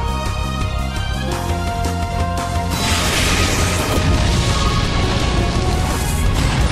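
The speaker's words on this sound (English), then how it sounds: "Annihilated by explosion!" An explosion move in Pokémon Battle Revolution: a loud, sustained crash and rumble rises midway through, over continuous game music, with no voices.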